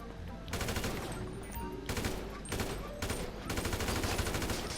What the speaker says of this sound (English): I always go for this assault rifle up here just because it's got more firepower.